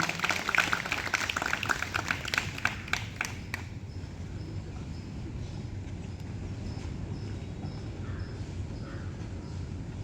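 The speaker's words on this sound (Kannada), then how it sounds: "ಅವ್ರಿಗೊಂದು ಜೋರಾದ ಚಪ್ಪಾಳೆ" An audience claps loudly for a short play staged by ARDC artists for Vigilance Awareness Week. Dense applause fills the first three and a half seconds, then stops abruptly, leaving only quiet room noise.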